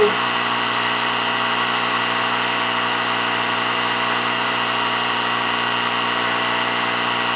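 A Ryobi ONE+ 18V cordless mini compressor runs steadily while inflating a car tire, a constant buzzing motor drone with a high whine, close and loud throughout without pause.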